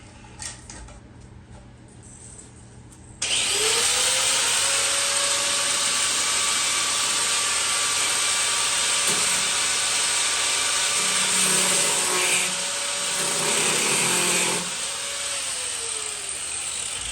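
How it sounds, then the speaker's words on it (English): An angle grinder spins up with a fresh wheel and cuts into Jeep YJ fenders, a loud steady whine with a rising pitch at the start that holds, then eases as the cut goes on. "Let's put a fresh wheel on the grinder."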